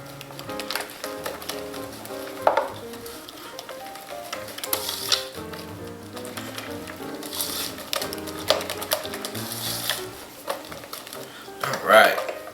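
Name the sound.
whisking eggs into pecan pie filling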